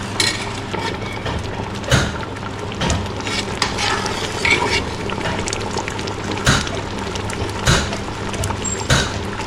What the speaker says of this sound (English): This sugar-free blackberry is cooking beautifully, and they're actually close to being ready.